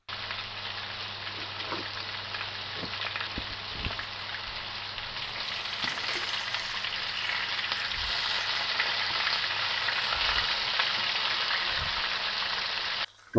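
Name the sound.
meatballs sizzling in a frying pan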